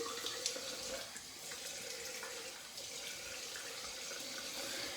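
A razor is rinsed under a running tap, giving a steady close hiss of flowing water with slight splashing and no voices.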